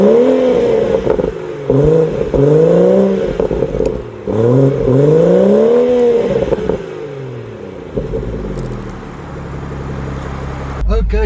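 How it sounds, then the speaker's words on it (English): A BMW M240i F22's B58 engine rumbles and revs in repeated rising-and-falling sweeps, loud and close, settling to a steadier drone before a sharp clunk at the end. "just listen to this B58 engine at the back"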